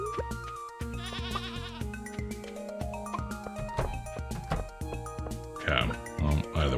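Short bleating, grunting farm-animal calls from a pig in the video game Stardew Valley, several quick cries over plinking game music, with a voice talking intermittently.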